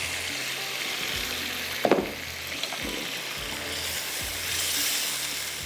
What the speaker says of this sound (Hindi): बस अब इसमें बॉयल आ रहा है।